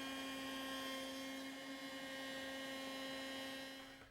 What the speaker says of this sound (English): And then we carefully cut the second rabbet for the mirror.